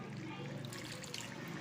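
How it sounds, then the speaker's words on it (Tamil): Tamarind water is poured into a pan of drumstick curry, a soft steady trickle and splash of liquid running throughout at low volume, close by, with no talking. "புளி தண்ணி போட்டுக்கலாம்"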